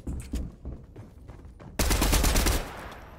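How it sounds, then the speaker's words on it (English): Gunfire in the video game Fortnite: a few scattered shots crack at first, then a loud sustained burst of rapid fire erupts close by and tapers off. "Somebody shooting at me?"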